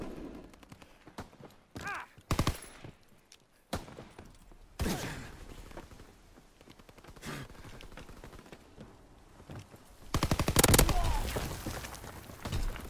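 Bursts of automatic gunfire from Call of Duty: World War 2 team deathmatch, rattling in several loud clusters with a heavy sustained volley near the end, with quieter game noise between bursts.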